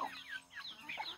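Black hens on a small farm in the early morning, with corn being eaten, give a brief run of soft, high clucks and chirps, faint and close together.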